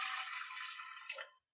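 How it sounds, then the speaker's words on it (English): Water pours steadily into a bowl as a close, bright rushing stream, splashing briefly more strongly just before it stops abruptly, leaving silence. "So we pour some water"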